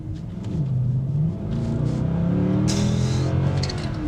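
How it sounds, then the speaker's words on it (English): A 6.2L AMG car engine at full throttle, a loud, deep roar that rises in pitch as it pulls through the gears with a brief dip at a shift, close and alone with no talking. "When you floor it, it sounds awesome and the front end actually lifts up."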